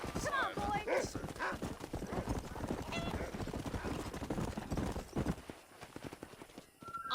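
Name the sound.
horses galloping in video game Red Dead Redemption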